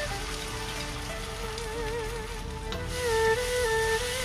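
Beef and scallions stir-fried in a hot wok just after sauce goes in, a continuous close sizzle that grows louder toward the end, with no talking.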